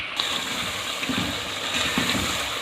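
Water poured into a cooking pot of chicken curry with tomatoes and kachnar buds, a steady broad splashing gush that runs the whole time at close range, with no one talking.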